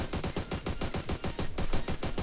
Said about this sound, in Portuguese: Vou atirar, né, no individual